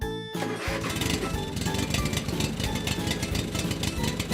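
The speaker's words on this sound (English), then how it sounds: "Tractor." A tractor engine catches after a brief quiet start, then runs with a continuous, loud, chugging rumble and an even mechanical beat, with no voices.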